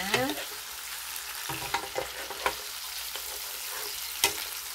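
Tilapia frying in a pan, a steady oily sizzle broken by several sharp scraping knocks of a utensil as the fish is stirred and flipped, close and fairly loud.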